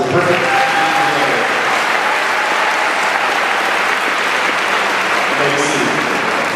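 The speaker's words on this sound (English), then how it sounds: "One more round of applause for the perfect GPA." An audience applauds at a middle school promotion ceremony, with loud, continuous clapping from a large crowd throughout and a few voices faintly mixed in.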